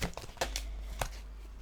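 Tarot cards shuffled by hand in a few quick riffling bursts, soft papery crackles and flutters close up, with quiet pauses between them.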